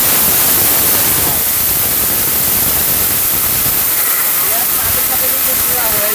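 A steel-bush Robot blender grinding ingredients to powder, a loud, continuous, rough motor roar that fills the whole clip without a break.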